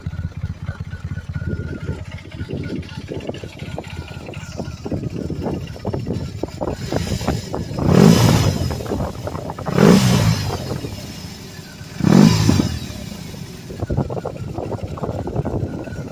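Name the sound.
motorcycle boxer engine exhaust rumble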